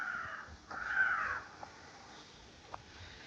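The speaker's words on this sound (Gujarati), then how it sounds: "કાગડાનો કેવો મસ્ત અવાજ આવે છે" Crows caw near a resort in Sasan Gir, two or three raspy calls in the first second and a half, followed by quieter scattered clicks against a calm, faint outdoor background.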